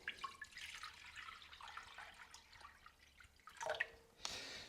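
Water poured into a saucepan over raw chicken breasts, faint splashing and trickling, quiet and close, swelling to a fuller pour near the end.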